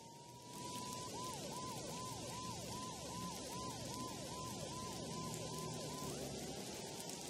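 A police siren in the video game Max Payne 2 wails in repeated rising and falling sweeps, loud and steady over a dense rumbling background, continuing for several seconds.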